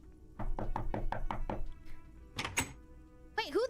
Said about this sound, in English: Do you hear that knocking?